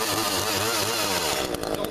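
An Echo CS 400 chainsaw engine runs loud and close after starting, its buzzing two-stroke drone wavering in pitch, then sputtering in a quick choppy burst near the end.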